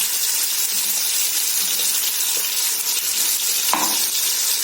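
Ginger garlic paste sizzles loudly and evenly as it fries with onions in a pan for chicken daalcha, a dense unbroken hiss with one brief scrape near the end.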